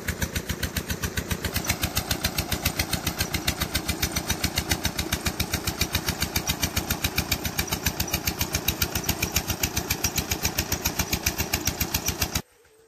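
A tubewell pump engine chugs nearby in a fast, even thumping rhythm, loud and constant for several seconds before cutting off abruptly near the end.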